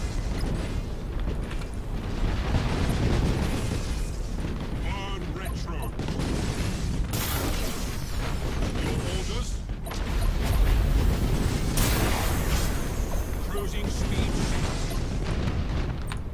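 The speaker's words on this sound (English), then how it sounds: "Another shield disruption bomb." Shield disruption bomb explosions in the space strategy game Battlefleet Gothic: Armada, a dense, continuous rumble of booms and blasts with a swell of heavier impacts near the end, mixed under commentary speech.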